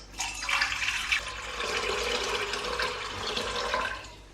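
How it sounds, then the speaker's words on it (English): Lukewarm water pours steadily into a stand mixer bowl, a fairly faint, continuous splashing stream lasting a few seconds, with no talking. "into my stand mixer, the first thing I do is I add my water"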